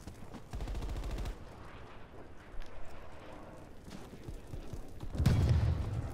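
Video-game MP5 submachine gun fire: a sharp burst of rapid automatic shots, then scattered single cracks and distant pops, ending in a louder heavy blast of gunfire or explosion, with no talk.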